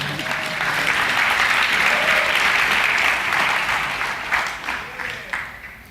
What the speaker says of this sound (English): Ladies and gentlemen, applause for David Rodriguez and his help.